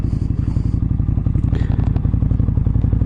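A motorcycle idles through a loud aftermarket exhaust with little baffling, a deep pulsing burble close up, with some clattering and scraping noises over the top.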